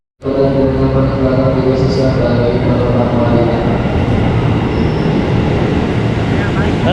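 A commuter train at Bogor railway station in Indonesia, a loud steady rumble and hum of rolling stock filling the platform throughout, with people talking faintly in the background.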